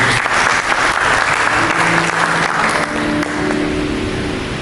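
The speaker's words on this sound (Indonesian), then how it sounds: "Berikan tepuk tangan untuk Yesus" A church congregation claps and applauds in praise during an Indonesian sermon, a loud, dense, steady wash of many hands filling the room from start to finish.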